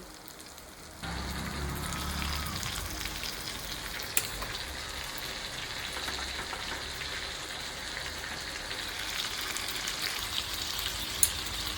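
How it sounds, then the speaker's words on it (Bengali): Jackfruit, partly boiled and then added to a spice paste, sautéing for a jackfruit curry, with a steady close sizzle and frying hiss that begins abruptly and carries on, plus a couple of sharp clinks of a utensil against the pan. "এবার আমি মশলার সাথে এখানে ভালো করে এঁচড়টাকে কষাবো"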